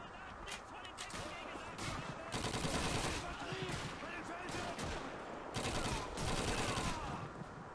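Rifle gunfire in the World War II shooter Call of Duty 2, a loud, dense run of overlapping shots and bursts with crackling battle noise throughout, in heavy clusters around the middle and near the end.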